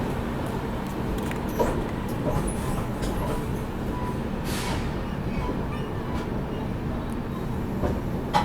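A train, the Chandigarh Udaipur Express with a brand-new rake, rumbles steadily at a station in a continuous low drone with faint clanks.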